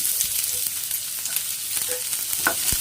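Half an onion sautéing in a hot pan, giving a continuous bright sizzle and crackle with a few stirring knocks and a sharp clink near the end, no voices.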